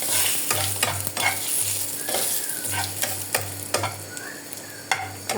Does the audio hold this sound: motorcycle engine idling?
no